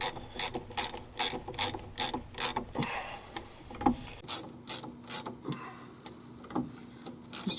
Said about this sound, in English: using the ratchet trying to loosen up some of this grease